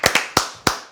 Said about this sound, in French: Chaim Sebag, vous pouvez l'applaudir s'il vous plaît